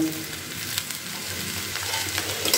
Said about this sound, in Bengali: আমি খুব ভালো করে নাড়াচাড়া করে আর একটু আমি ভালো করে ভাজা ভাজা করে নিয়েছি